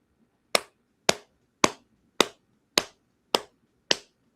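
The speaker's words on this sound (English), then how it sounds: "Slow clap because you deserve it." Seven sharp, evenly spaced hand claps in a slow clap, about one every half second, crisp and close against near silence.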